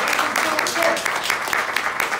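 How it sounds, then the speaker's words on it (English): Conference panelists receive applause, a steady patter of clapping from an audience mixed with a speaking voice. "Let's give our entire panelists applause for being strong enough to come and share their story with us."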